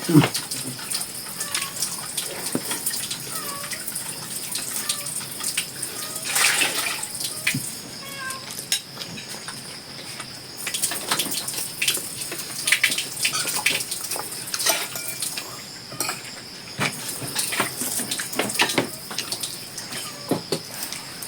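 Water runs steadily from a tap, a continuous hiss under occasional talking, with a cat meowing a few times.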